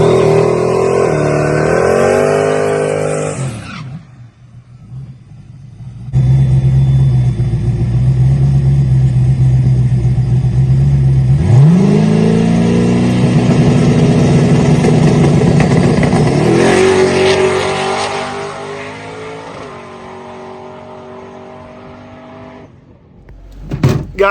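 Turbo LS-swapped Mustang on a drag strip pass, engine revving loud then climbing through gears in long rising sweeps, a pause, then another hard pull fading near the end.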